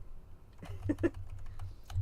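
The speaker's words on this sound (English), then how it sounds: "you moving back and forth and typing and stuff no one can see" Typing on a computer keyboard sounds nearby as a short burst of uneven key clicks over a low background hum.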